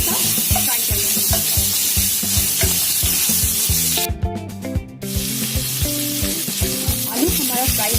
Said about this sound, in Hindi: आलू को हम हल्का सा फ्राई कर लेंगे।